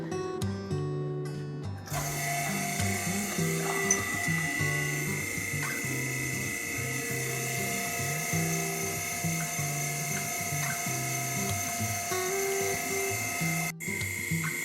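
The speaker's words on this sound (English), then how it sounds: "We run the vacuum for about 20 minutes" A vacuum pump runs steadily on a lab gas system for producing steel from lunar regolith by the carbonyl process, giving a continuous mechanical whine with ratcheting, gear-like pulsing that stays loud throughout with no speech.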